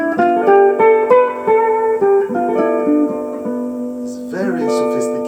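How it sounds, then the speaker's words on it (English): Someone plays a Locrian scale note by note at an even pace, each tone ringing clearly, ending with a stronger struck chord-like flourish near the end; no talking over it. "And I will play the scale, and the scale is called Locrian."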